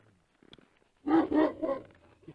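A Kangal dog gives a few gruff, deep barks at moderate distance after some faint rustling and clicks.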